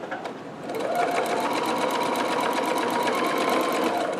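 A sewing machine starts up and runs in a fast, steady mechanical chatter as it stitches through thick layers of a locker caddy, close and loud, with no talking.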